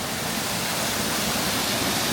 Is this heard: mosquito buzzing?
no